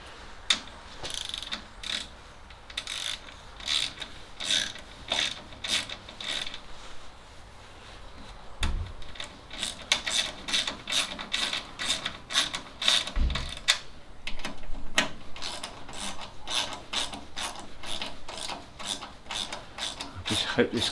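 A hand ratchet tightens a part on a car's front suspension during reassembly, giving rapid runs of crisp clicking in repeated bursts with brief pauses between strokes, close and clear.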